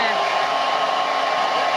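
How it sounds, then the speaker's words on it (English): A hair dryer blows steadily and loudly at close range, a constant whooshing hum with no pauses. "I'll dry it with a hairdryer"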